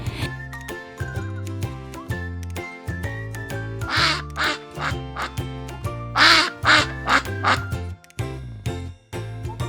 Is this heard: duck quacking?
yes